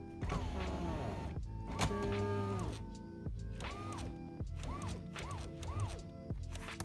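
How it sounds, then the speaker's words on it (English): Electric power window on a BMW car running up and then down, a whirring motor hum with rising and falling whines and soft thuds as the glass stops, several cycles close by. "push window up. Oh, window goes up. Window goes down."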